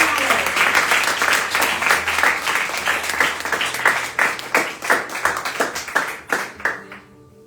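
A church congregation claps during a worship service in Setúbal, Portugal: rhythmic, fairly loud group clapping that slows into spaced claps and stops near the end, with voices faintly underneath.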